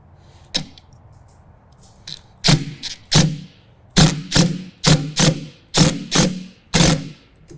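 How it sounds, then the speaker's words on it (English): Ratcheting 10 mm wrench snugging a lock nut onto a string trimmer mounting kit on a John Deere Z735M zero-turn mower, a series of sharp metallic clicks in bursts, close and loud with brief pauses between strokes. "break out that 10 millimeter wrench"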